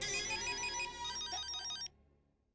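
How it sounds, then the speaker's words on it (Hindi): A telephone ringtone chimes in a repeating electronic pattern, fairly clear and close, then cuts off abruptly, leaving a short fading tail of silence. "फोन बज रहा है।"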